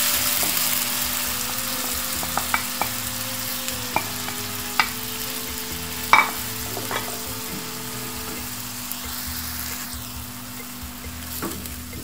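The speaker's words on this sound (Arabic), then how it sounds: "نشحروا البصله ديالنا تقريبا واحد ربعة حتى الخمسة ديال الدقائق" Onion sautéing in olive oil in a pan gives a low, steady sizzle with scattered small pops and clicks, close and moderately quiet, with no talking.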